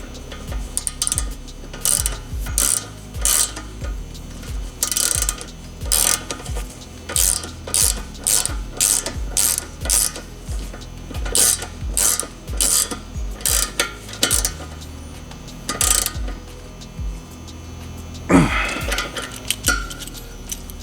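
A ratchet tightens bolts during an Air Lift Performance air strut installation on a Dodge/Chrysler car. Close, loud bursts of rapid clicking repeat in a steady rhythm with short pauses between strokes, and no one talks.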